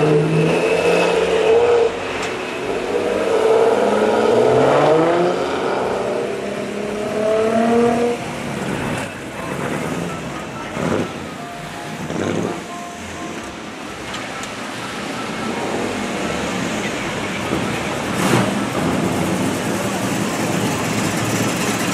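Cars cruise through downtown Windsor during a street cruise, with engines revving and accelerating past nearby, then fading into a busier mix of traffic and crowd noise with scattered voices.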